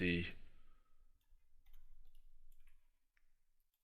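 A few sparse, faint computer mouse clicks while working in Excel 2010, coming just after a brief bit of speech.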